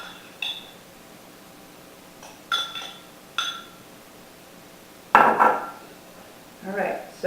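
Cooked onions are spooned into several bowls in a kitchen, with sharp clinks and scrapes of utensil against dishware coming in separate bursts and a louder clatter near the end, no talking.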